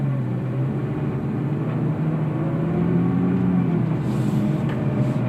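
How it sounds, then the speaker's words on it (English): A steady low engine drone inside a 2017 Nissan GT-R, with faint shifts in pitch as the dual-clutch automatic transmission steps down through gears. "You hear the transmission doing this, shifting down to the lower points."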